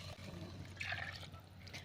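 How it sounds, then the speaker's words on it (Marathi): Water poured into a pan of simmering amti, a Maharashtrian dal curry, while cooking; a steady, close liquid splash and trickle runs for about two seconds with no talk. "आता आपण जे कटाचं पाणी काढलं होतं ते टाकून घेऊया."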